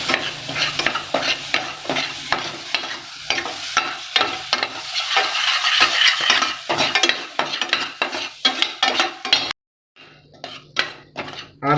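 A spoon scrapes and clinks steadily against a hot pan while rajgira flour sheera is stirred, with a faint sizzle underneath, close and continuous until a brief pause near the end.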